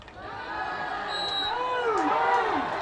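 Cardiff Met Ultras fans at a home netball match against Reading shouting at the umpire, with rising and falling yells and whoops from a crowd that grows louder toward the end.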